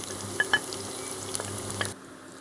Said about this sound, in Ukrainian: додаю моркву.